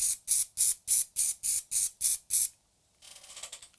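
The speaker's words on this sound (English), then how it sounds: "gently spray over the top" An aerosol can of sealant sprayed from about a foot away over static grass: nine short, evenly spaced hissing bursts in quick rhythm, a pause, then a quieter, rougher sputtering spray, close and alone.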